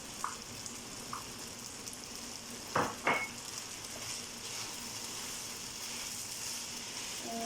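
Salsa added to a hot frying pan for a rice-stuffed mahshi dish sizzles steadily at close range, with a couple of sharp clinks of a utensil against the pan partway through, no voices.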